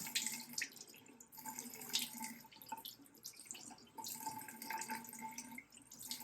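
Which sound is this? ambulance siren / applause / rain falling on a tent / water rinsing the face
water rinsing the face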